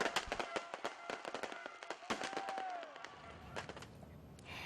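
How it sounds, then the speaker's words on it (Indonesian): New Year fireworks over the Ancol area of North Jakarta go off in a rapid string of sharp cracks and pops, some distant and some closer, with a whistling rocket streak before the bursts thin out. "Para pengunjung yang datang sangat antusias mengabadikan cahaya kembang api yang gemerlap menerangi malam"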